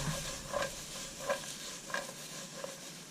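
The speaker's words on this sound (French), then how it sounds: "vous faites bien dorer, que ça prenne le goût de l'huile, que ça dore bien" Piperade vegetables frying and browning in oil in a pan give a continuous sizzle, with a regular series of stirring scrapes about every half-second, close and fairly quiet.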